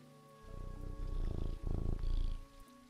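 A cat purrs in the video game Teddy's Haven, a low rumbling purr in a few rolling bursts of about two seconds over a faint steady background hum, close and fairly loud.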